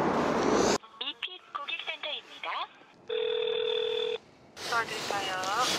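A short run of telephone keypad tones, several quick beeps in an uneven rhythm, followed by a steady tone and then a voice speaking.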